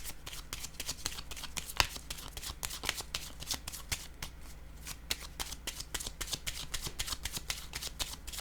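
Tarot cards get shuffled by hand at close range, a quiet run of crisp riffling flicks and soft slaps in a quick, uneven rhythm over a low steady hum.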